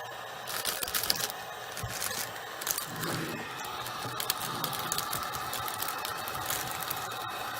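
A shrink wrap sealer seals plastic wrap around a handmade bath bomb, giving a steady, fairly loud rush of noise with scattered crackles and small clicks throughout, and no voices.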